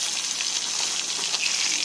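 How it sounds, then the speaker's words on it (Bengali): Hilsa fish fry in a pan with a constant, bright sizzle and crackle, close and steady throughout, with no talking. "ইলিশ মাছ ভাজতেছে, ইলিশ মাছ ভাজছিলাম।"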